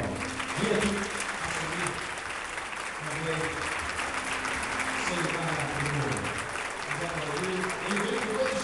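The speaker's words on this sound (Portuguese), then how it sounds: "Vamos recebê-lo com forte aplauso." A church congregation gives strong applause to welcome a pastor, sustained dense clapping from a large gathering with music and voices mixed underneath.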